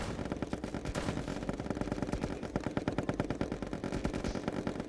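Rapid, sustained gunfire from the party video game Pummel Party, a fast, evenly paced stream of shots that grows denser toward the end, heard alone with no talking.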